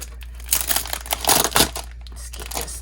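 Packaging of a fall subscription box being opened, giving brief close crinkling and crushing rustles in a few quick bursts over under three seconds.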